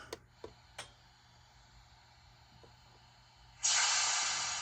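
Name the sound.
model steam locomotive sound module hissing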